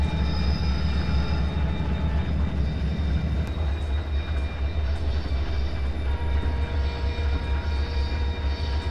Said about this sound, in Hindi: क्या बात है यार, ट्रैक साउंड सुन रहे हो?